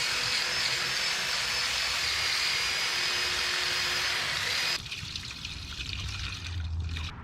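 Zep Industrial Cleaning Vinegar all-purpose cleaner poured steadily over a rusty part from a 1958 Chevrolet Apache truck, a continuous close hissing trickle that shifts tone partway through as the liquid level changes, with no talk.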